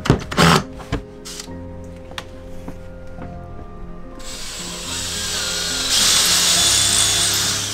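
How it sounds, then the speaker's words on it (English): Power drill pre-drilling pilot holes into a hardwood floor inside a van build, heard as a steady motor whine that swells louder in the second half after some scattered workshop knocks and clunks. "Pre-drilling right now, since we're going to be going into the hardwood floors, we want to make sure we don't split the wood."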